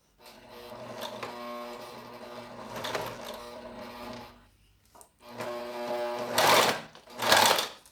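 A domestic sewing machine stitches plastic piping, its motor whirring in steady close runs that pause briefly midway, then resume and end with two louder, harsher bursts of stitching.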